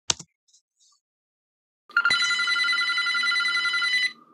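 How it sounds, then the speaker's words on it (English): A telephone rings with a continuous electric bell trill lasting about two seconds, close and clear, after a few faint clicks in an otherwise quiet room. "The phone just ringing like a normal phone."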